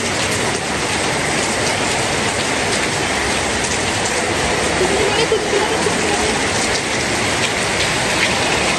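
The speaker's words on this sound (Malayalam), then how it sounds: "പെരുമഴ നടന്നു കേട്ടോ നിൽക്കാത്ത മഴ കൂടട്ടെ മഴ കൂടട്ടെ" A heavy, steady downpour roars without a break and fills the whole scene, with a voice faintly audible beneath the rain.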